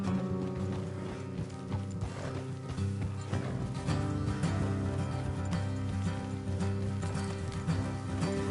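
In a video game, horse hooves clip-clop in a steady trotting rhythm over a mechanical rattle and a background music bed, carrying on throughout at moderate loudness.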